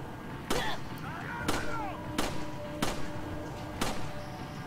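Gunfire in Resident Evil 4, five evenly spaced sharp shots cracking over a continuous game soundscape, with brief tonal effects between the first shots.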